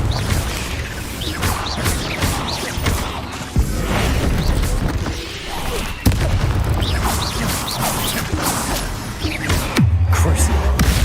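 Confringo fire-blast spells in Hogwarts Legacy during a fierce fight, with repeated booming bursts and crashes amid dense, loud, continuous combat noise and a voice over it.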